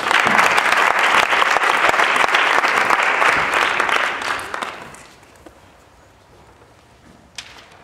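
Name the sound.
audience applause for a student debate speaker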